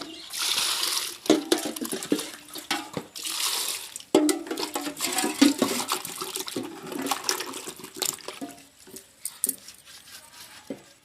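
Tubers are washed by hand in water, with sloshing and splashing in irregular bursts close to the microphone and little talk.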